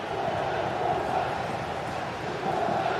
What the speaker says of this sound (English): Well, just listen to this crowd.